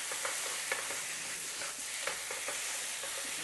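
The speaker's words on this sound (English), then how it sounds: "Then keep a stir fry" Udon noodles stir-fried with garlic and sauce in a hot pan, a steady loud sizzle with scattered scraping stirs and clinks throughout, no talking.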